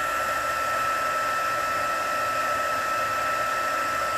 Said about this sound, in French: Et on chauffe avec le pistolet chauffant.